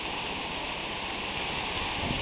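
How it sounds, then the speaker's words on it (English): Heavy rain pours down in Sarlat, France, as a dense, steady hiss that fills the whole stretch with no pauses and no voices. "I have not seen so much rain in many years."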